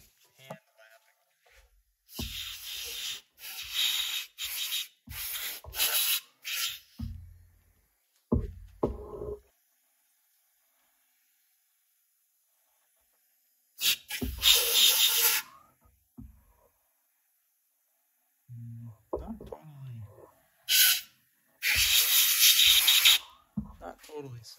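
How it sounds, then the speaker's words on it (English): A metal part from an old Mity Kat bulldozer being hand lapped, giving bursts of close gritty rubbing and scraping strokes separated by silent pauses. "It gets it close enough that you can finish the job by hand lapping"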